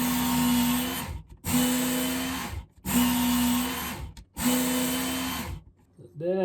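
A fillet knife is ground against powered sharpening belts in four long passes, each a steady grinding whine with a lull between strokes, loud and close, ending with a brief metallic ring.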